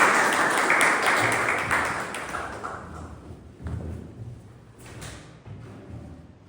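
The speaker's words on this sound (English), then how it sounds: "Have a round of applause." Audience applause at a Toastmasters club meeting: dense, loud clapping from a room full of people that gradually thins and fades over several seconds, with a few low thumps toward the end.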